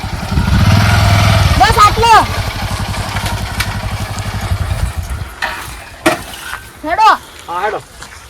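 A motorcycle engine idles nearby with a low, steady throb for several seconds, then cuts out as people speak loudly.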